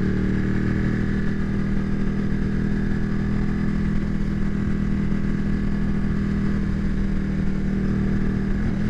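A Ducati 1199 Superleggera motorcycle on a ride, its engine a loud steady drone at sustained revs with road rumble and wind noise throughout, no talking.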